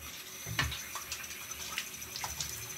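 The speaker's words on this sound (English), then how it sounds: "I put cold water on." Cold water runs from a tap into a sink during a wet shave, a steady broadband hiss and splash with a few brief surges, fairly quiet and close, with no talking.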